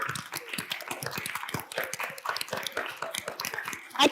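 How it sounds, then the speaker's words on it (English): A small audience keeps clapping in a brisk, uneven patter of individual hand claps. The claps are fairly quiet and close, with faint voices in the background. "Keep clapping. Yeah, keep clapping."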